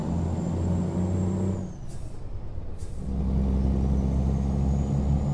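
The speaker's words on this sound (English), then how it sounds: "Listen to that truck." A heavy Freightliner Classic XL truck engine in American Truck Simulator rumbles steadily, drops away for a moment with a sharp hiss of air brakes, then returns with a loud, constant drone.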